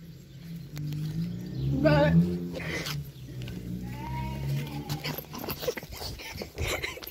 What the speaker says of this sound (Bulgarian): Е, това са козите. Това са козите, да.